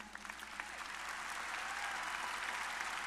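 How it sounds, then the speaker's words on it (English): Audience applause at a Tri-C college commencement ceremony, a steady wash of many hands clapping that swells slightly and holds, heard from within a large venue with no talking over it. "Another round of applause for Carla, please."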